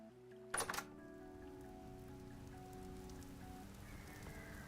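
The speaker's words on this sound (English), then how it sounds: "Oh, sounds like it's raining out." Rain falls outside in the video game Vintage Story as a faint, steady patter heard behind a sustained musical tone, with a short clunk near the start.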